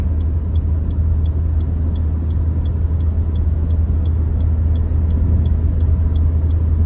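Steady engine rumble and road noise from inside a car riding through the streets of Abidjan, from Cocody toward Treichville, continuous and loud, with a faint regular ticking like a turn signal over it.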